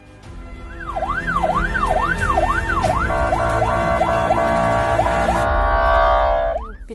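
A Ukrainian ambulance siren wails loudly in a rising-and-falling pattern, then switches to a faster yelping cycle, sounding fairly close.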